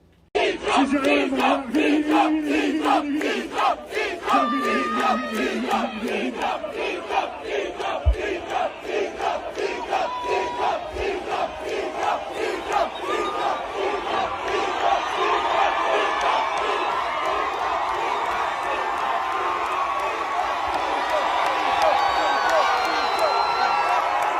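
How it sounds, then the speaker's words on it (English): Concert crowd at a Sumfest show cheering wildly for the performer to return for an encore, with rhythmic chanting and shouting that builds into a dense, sustained roar of voices and whoops. "the crowd was going buck wild for it"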